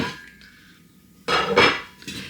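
A packaged turkey crown pressed into a slow cooker pot gives a faint ceramic scrape, followed by louder clunks and clinks as it settles against the pot.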